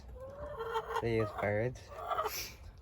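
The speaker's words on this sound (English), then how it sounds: "We have Maple and the Barred Rocks, which are these birds" Barred Rock chickens cluck and call close by, a few drawn-out, tonal squawks amid softer clucking and faint background murmur.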